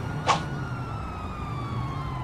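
A brief, faint siren wail from a passing ambulance in the GTA V game rises once at the start, then fades into steady low engine-like rumble with no talk.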